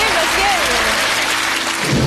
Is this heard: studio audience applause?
yes